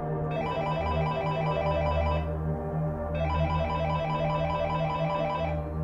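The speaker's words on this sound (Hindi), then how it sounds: "कनुप्रिया ने अमित की बात मानते हुए पहले दिनेश से बात करने का फैसला किया और उसे फोन लगाया।" Repeating electronic telephone ringtone in bursts with short gaps, steady and fairly loud, heard alone during an outgoing call being placed.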